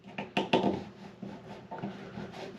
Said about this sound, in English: That's the feeler gauge going through.